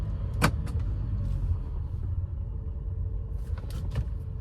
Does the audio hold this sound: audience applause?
no